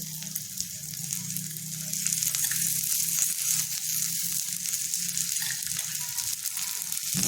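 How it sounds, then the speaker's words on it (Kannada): Vegetable patties pressed flat and shallow-frying in oil on a low flame, a steady, even hiss of sizzling oil close up, continuous throughout with no voices. "ಸಣ್ಣ ಉರಿಯಲ್ಲಿ ಇದನ್ನು ಈ ಥರ ಬಿಲ್ಲೆ ಮಾಡಿ ತುಸ್ಕೋಬೇಕು ಮೇಲ್ಗಡೆ ಕೂಡ ಎಣ್ಣೆ ಹಾಕಬೇಕು"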